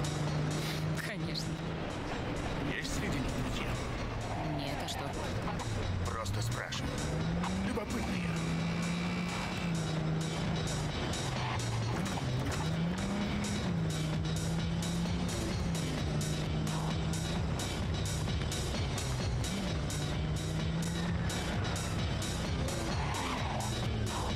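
A car in the video game Cyberpunk 2077 drives with its engine droning continuously, its pitch rising and falling as it speeds up and slows, with game voices talking over it.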